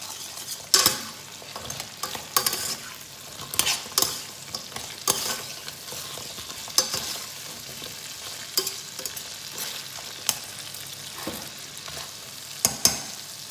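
Tomato sauce being stirred in a frying pan with a utensil, soft sizzling under repeated scraping and clinking strokes at an uneven rhythm, close by with no voices.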